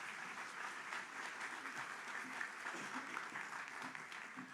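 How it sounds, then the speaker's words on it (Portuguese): Steady applause from a lecture audience, a continuous even patter of clapping with no voices over it. "Uma salva de palmas para a gente,"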